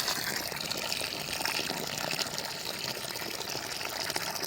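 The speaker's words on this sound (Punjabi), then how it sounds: "ਪਾਣੀ ਦੀ ਸੇਵਾ ਚੱਲ ਰਹੀ ਆ ਸਾਡੇ ਗੇਲੇ ਭਾਜੀ ਹੁਣੀ ਨਾਲ" Water gushing steadily onto young plants and saplings during rainy-season watering, a constant hissing, splashing flow that stays loud and unbroken throughout, with no voices.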